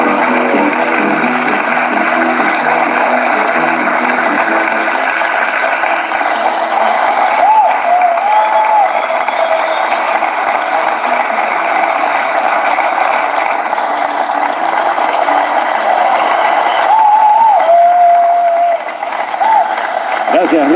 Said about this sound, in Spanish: Gracias por sus cariñosos aplausos